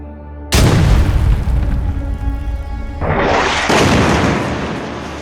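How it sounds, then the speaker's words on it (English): Explosions from strikes near the Gaza border: a deep, loud boom bursts out, rumbles on, and a second heavy blast follows, with no voices. "Israel has been blowing up targets here for 2 years, since October 7th."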